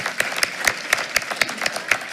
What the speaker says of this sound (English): Let's give Jalen one more round of applause